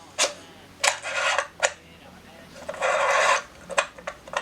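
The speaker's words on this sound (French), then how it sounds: "Je visse le diviseur optique." Metal threads of an optical splitter being screwed onto a ZWO ASI294MM Pro astronomy camera, heard as several short close scraping rasps and rubs in bursts, with one longer grinding stretch near the end.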